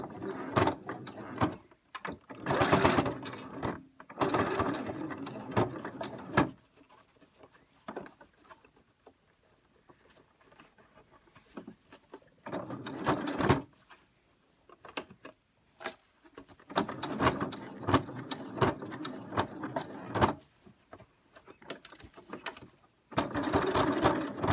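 A sewing machine runs line after line of stitching over an elastic loop on a face mask, several bursts of close, rapid mechanical whirring separated by quiet pauses.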